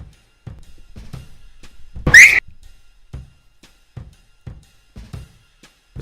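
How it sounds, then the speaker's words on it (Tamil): A person gives a single short, sharp whistle to call someone, loud and close, set among quiet footsteps or taps scattered through an otherwise still scene. "ஏதோ ஃபிகரை கூப்பிட்ற மாதிரி விசில் அடிச்சு கூப்பிட்றீங்க"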